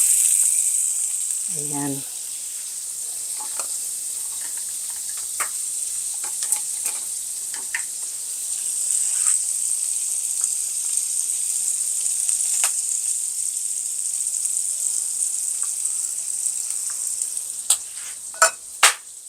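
Butter melting in a pan for a burger steak sauce gives a steady, faint, high sizzle throughout, with a few clinks and light knocks and a brief spoken word early on.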